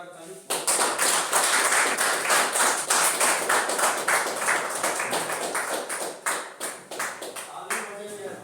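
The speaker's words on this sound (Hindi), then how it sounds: "चलिए मैम के लिए एक बार जोरदार ताली" An audience at an Indian seminar-style gathering claps loudly and fast for a female presenter, a dense burst of many hands starting abruptly, holding strong, then thinning into scattered claps near the end.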